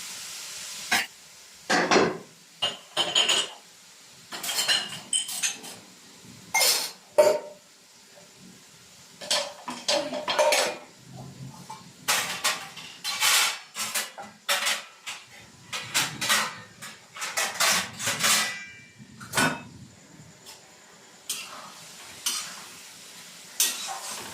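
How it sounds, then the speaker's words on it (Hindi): Cooking utensils being washed at a kitchen sink while tomato and mushroom masala cooks, with repeated clattering bursts of pots and scraping, close and busy, no talk over it. "जब तक ये होता है फटाफट बर्तन में धो के निकाल देती हूँ।"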